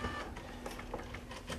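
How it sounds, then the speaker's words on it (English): Two dot matrix printers run at once in an office, giving a steady, dense buzzing chatter with a faint whine and a few sharper ticks, moderately quiet and continuous. "We have two matrix printers running at the same time"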